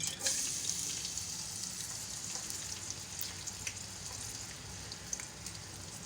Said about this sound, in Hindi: ऑयल हमारा गर्म हो चुका है। इसमें जाएगी प्याज।